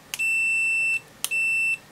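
A multimeter set to continuity mode gives two steady high-pitched beeps, each lasting nearly a second, as its probes detect a short across a jumper link, close and clear with no talking.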